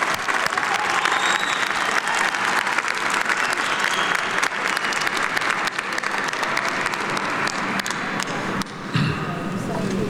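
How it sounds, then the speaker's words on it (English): Sustained, loud applause from a large crowd at a fall university commencement ceremony honoring military veterans and peace officers, dense steady clapping lasting throughout with scattered cheers. "Let's give them a round of applause to thank them for their service to this country."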